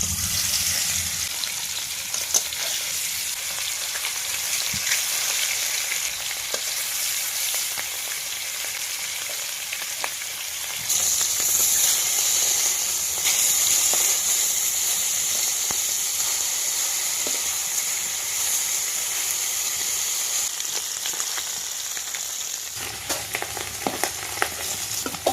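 Fish sizzles and spits steadily in hot oil in a wok, a dense broadband hiss holding throughout with occasional brief crackles and a slight swell midway, with no talking.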